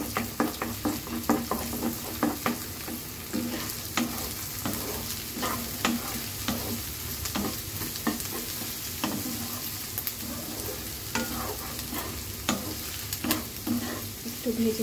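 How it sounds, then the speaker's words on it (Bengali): Egg beaten with salt and a little sauce is scrambled in a hot frying pan: a steady, close sizzle runs throughout, broken by repeated scraping and stirring strokes of a utensil against the pan. "স্ক্র্যাম্বল করে নেব।"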